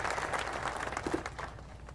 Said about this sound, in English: Let's give a round of applause to the men and women of Western New York who will be building this incredible fortress.